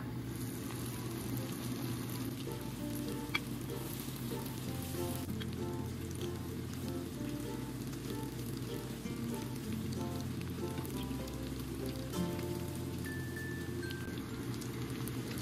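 Lumpia spring rolls frying in hot oil, a steady crackling sizzle that runs unbroken and close throughout, with a low hum underneath.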